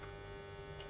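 An arc welder hums steadily on a first attempt at arc welding, a constant close electrical drone with no arc crackle and no voices.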